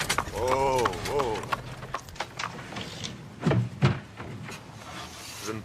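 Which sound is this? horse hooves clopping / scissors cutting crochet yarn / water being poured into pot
horse hooves clopping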